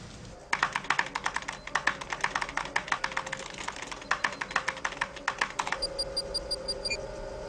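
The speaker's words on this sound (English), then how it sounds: "Just use the keyboard." Someone types quickly on a computer keyboard in a Star Trek scene, producing a dense run of sharp, close keystrokes for several seconds, followed by a few soft electronic beeps from the computer.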